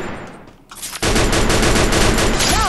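Machine gun fire in a battle royale video game: after a quiet moment, a loud, dense burst of rapid automatic shots begins abruptly and continues steadily to the end.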